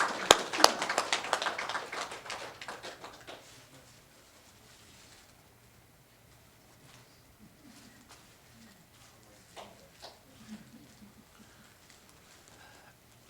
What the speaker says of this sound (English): we want to definitely give him a round of applause for his appreciation